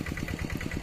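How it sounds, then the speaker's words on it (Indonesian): A tractor engine runs in a rice paddy, giving a rapid, even low chug with regular pulses, about ten in under a second. It is fairly faint and is heard alone. "Traktor mesin."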